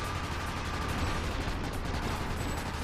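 Gunfire in the video game Ratchet Deadlocked, a dense, steady stream of loud rapid shots and blasts running without pause, with no talking.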